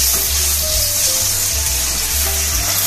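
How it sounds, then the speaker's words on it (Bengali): Tomato paste fries loudly and steadily in a pan, a dense close sizzle with a low rumbling hum underneath and no talking. "টমেটোটা একটু কষিয়ে নেব।"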